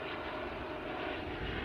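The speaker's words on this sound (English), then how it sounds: "oh, that's a helicopter." A news helicopter passing overhead near the coast, a continuous loud droning engine and rotor rumble that holds steady throughout, with no talking.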